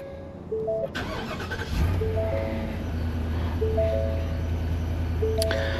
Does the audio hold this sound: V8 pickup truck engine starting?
yes